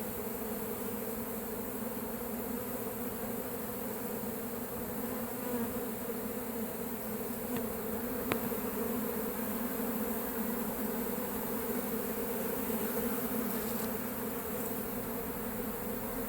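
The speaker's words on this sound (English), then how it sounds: "Bees and blue sky." Honeybees buzz around a hive in a cinder block wall in Lakeland, Florida, a steady, dense drone of many insects holding evenly throughout.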